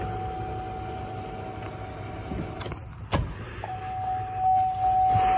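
An electric power seat motor whirs in a single cab truck, a steady mechanical hum with a clunk midway, followed by a second motor run with a thin whine, close and fairly loud with no talking.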